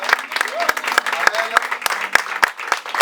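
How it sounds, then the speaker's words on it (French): A church congregation claps and cheers to welcome a pastor to the stage, steady applause filling the room while a voice speaks over it through the sound system and sharp rhythmic hits punctuate the noise. "Je voudrais sous vos acclamations, amen, le recevoir."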